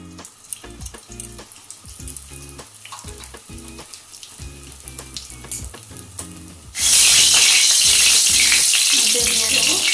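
A small pinch of asafoetida hits hot white oil in a wok and bursts into a loud, bright sizzle, following a stretch of scattered clinks and kitchen clatter.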